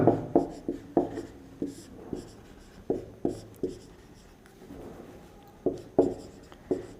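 Chalk or marker strokes on a board during a maths lesson about the areas of rectangles, heard as a series of close, distinct scratching and tapping strokes in an uneven rhythm with short pauses.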